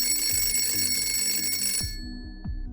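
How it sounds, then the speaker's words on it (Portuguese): A telephone rings in loud, close bursts of rapid bell trills that cut off abruptly near the end, leaving brief echoing tail tones. "Mas então o telefone tocou,"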